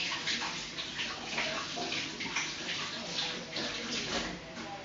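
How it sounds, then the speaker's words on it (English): Hands washed under a running kitchen tap before making fried dumplings, a steady continuous splash of water lasting the whole stretch, close by and moderately loud with no talking. "So I did wash my hands already, but I'm going to give them another little wash."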